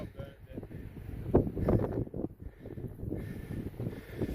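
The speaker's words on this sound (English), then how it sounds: "the wind is playing havoc with my gimbal. Not only for the noise" Wind buffets a camera microphone on a sandy beach in gusty, uneven rumbling bursts, with people talking throughout.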